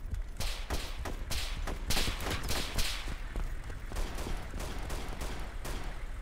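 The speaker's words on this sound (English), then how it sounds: "That was a big gunshot" Rapid gunfire in the DayZ Overpoch game, a fast series of sharp cracks in bursts, fairly faint and distant-sounding, continuing across the whole stretch without talk.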